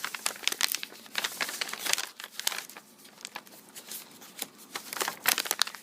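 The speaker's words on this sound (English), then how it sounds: "you need to kind of fold your bag in. You fold these corners up." A paper Scentsy product bag is folded in and its corners creased up, giving close, loud crinkling and crumpling bursts in irregular clusters with brief pauses and no talking.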